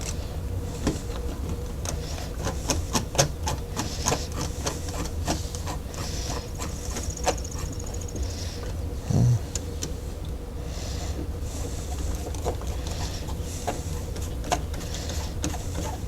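A screwdriver tightens the screws of a lever-action door handle: a run of small, irregular clicks and ticks, close but faint, over a steady low room hum.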